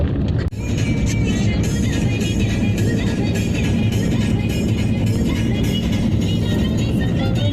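A four-wheeler car drives along the road to a village fair, giving a steady, loud rumble of engine and road noise that continues without a break.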